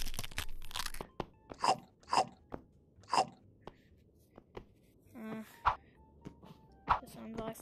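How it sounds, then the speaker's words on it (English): Someone chews a crunchy snack close to the microphone, giving a series of sharp, irregular crunches with quiet gaps between bites. "I'm actually eat this crunchy thing."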